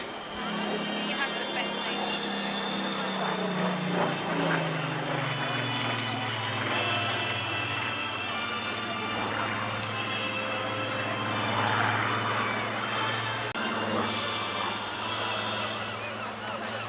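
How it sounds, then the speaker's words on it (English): A Supermarine Spitfire Mark 19 photo reconnaissance aircraft flies at a seaside airshow, its engine a continuous loud drone that slowly shifts in pitch, with a commentator talking over it. "Mark 19 photo reconnaissance Spitfire from the Rolls-Royce Historic Air Fleet"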